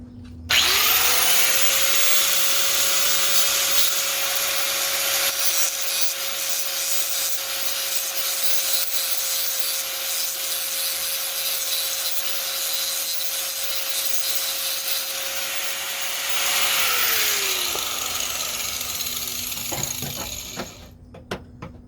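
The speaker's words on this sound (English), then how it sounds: "let's grind a little bit off of this face." A power grinder works steadily against the face of a body panel on a 1970 VW Bug, a loud continuous whine that spins up, holds for about sixteen seconds, then winds down near the end.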